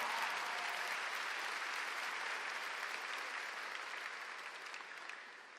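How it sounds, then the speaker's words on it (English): A large crowd at a high school graduation ceremony applauds in a broad, even roar of clapping that sounds somewhat distant and slowly fades toward the end. "Let's give them all a big round of applause for all they do for Wilson County"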